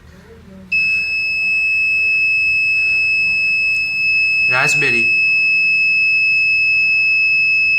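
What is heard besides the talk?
alarm beeping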